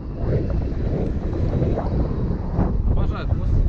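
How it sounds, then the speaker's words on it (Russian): Heavy wind roars constantly across the microphone during a long bicycle ride through open fields, loud and unbroken for the whole stretch, with faint rustling on top. "Блин, ветер дикий, ужасный."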